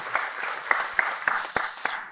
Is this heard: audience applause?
yes